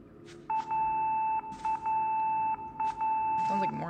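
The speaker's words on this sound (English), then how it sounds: "Sounds like Morse code." In the video game Fatal Frame: Mask of the Lunar Eclipse, a loud, clear electronic tone pulses in short and long Morse-code-like beeps, spaced irregularly over a low background drone.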